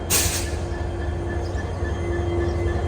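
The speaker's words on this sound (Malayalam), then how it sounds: "ഇതാണ് നമ്മുടെ ലോക്കോമോട്ടീവ് വരുന്നത് ഡബ്ല്യു ഡി ജി ഫോർ ലോക്കൊക്കെ ഇവിടെ ഓൾറെഡി ഓണായി" WDG4 diesel locomotive running at a station, giving a steady low engine rumble with a faint sustained whine, close and continuous throughout.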